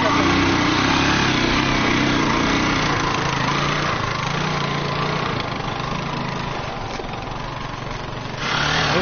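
A motorcycle engine idles nearby with a steady, buzzing putter that holds for several seconds and swells slightly toward the end, with faint voices in the background.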